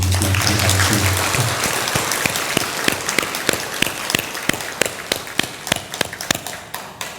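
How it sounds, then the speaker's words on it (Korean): Applause fills a Buddhist dharma assembly hall, dense and loud at first, then thinning into distinct separate claps that slow and fade toward the end. "우리 함께 찬탄의 박수를 보내주시면 감사하겠습니다"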